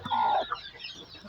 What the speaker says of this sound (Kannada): ಹಾಗೆಯೇ ಇಲ್ಲೊಂದು ಕೋಳಿ ಇದೆ